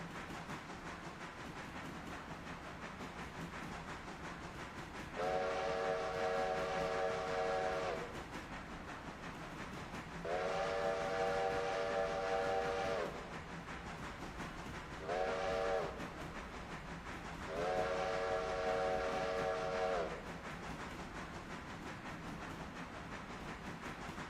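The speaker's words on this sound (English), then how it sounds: "I think that whistle signal is just for the road up here." Four long steam-style train whistle blasts sound in the Railroader video game, each a few seconds long with short gaps between, clear over a steady low rumble of the train in the background.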